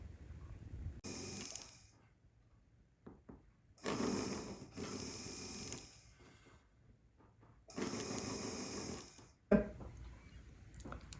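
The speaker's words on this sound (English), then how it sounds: "this is a cup burr and it's got a little slit on both sides" A cup burr on a rotary tool rounds over the prongs of a six-prong ring head, heard as three whirring, buzzing bursts of a few seconds each, separated by quieter pauses.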